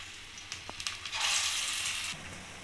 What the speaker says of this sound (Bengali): এখানে অল্প অল্প করে ভেজে নেব, একবারে অনেকগুলো দেব না